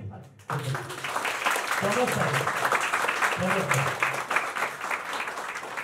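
An audience claps steadily and loudly to welcome a guest onto the stage at a formal event, a dense sustained round of applause with a voice speaking over it.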